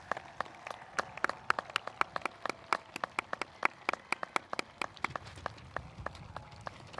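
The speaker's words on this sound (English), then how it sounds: "Please give these students a round of applause" A middle school graduation audience gives students thin, faint applause: a few hands clapping in a steady, sparse patter that carries on for several seconds.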